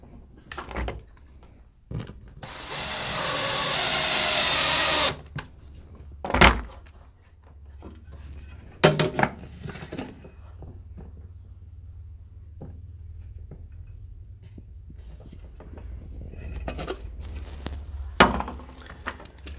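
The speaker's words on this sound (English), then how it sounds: "What I'm going to do is I'm going to put one screw in right here," A power driver runs a screw into a wall to mount a ductless mini split unit, a sustained whine of about two and a half seconds, followed by scattered clunks and knocks of handling.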